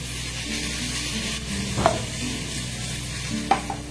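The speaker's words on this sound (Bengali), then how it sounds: "5 মিনিট সময় ধরে সবজিগুলোকে আমি দেখুন নাড়াচাড়া করে একটু কষে নিয়েছি" Vegetables with ridge gourd being stirred and sautéed in a pan, a steady soft sizzle with occasional louder scrapes of the spoon against the pan, close by and without speech.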